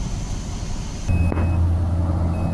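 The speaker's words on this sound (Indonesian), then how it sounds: "mulai mobil-mobil pada berangkat ke tempat bekerja ya teman-teman" Cars pass along a road in the morning, with a steady low engine and tyre rumble that swells as a vehicle draws near midway, then holds close and loud, with a brief higher tone over the traffic.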